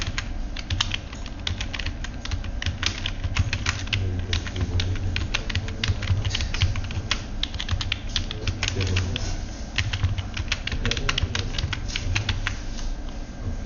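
Fingers type quickly on a computer keyboard, close up, with rapid irregular key clicks running steadily throughout over a low background hum.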